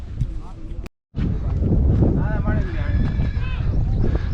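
Horses whinny and snort amid steady outdoor wind noise at high-elevation Seri Paya Meadows near Shogran, Pakistan, with faint hoof clops and voices in the background; a brief silent gap near the start.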